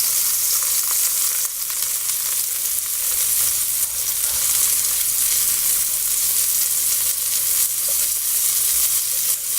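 Large scallops sear in an oiled pan with a loud, steady, crackling sizzle that holds evenly throughout, close up and with no voices.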